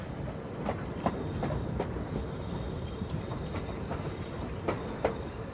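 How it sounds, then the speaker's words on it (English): Rovos Rail train rolling at walking pace across Victoria Falls Bridge over the Zambezi: a continuous low rumble punctuated by evenly spaced metallic wheel clacks, moderately near, with no speech. "he will drive his train over the famous Victoria Falls Bridge at"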